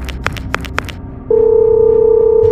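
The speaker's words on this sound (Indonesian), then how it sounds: "Kok HP-nya gak diangkat?" A phone call goes unanswered: a few short clicking beeps give way to a loud, steady electronic tone that holds unbroken to the end, with no voice over it.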